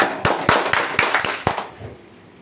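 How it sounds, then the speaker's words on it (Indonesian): A small group claps hands in a handful of sharp, separate claps, roughly evenly spaced, close by and fairly loud, before fading to quiet near the end. "Tepuk tangan dulu dong."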